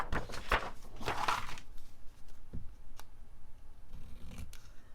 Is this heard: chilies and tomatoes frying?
no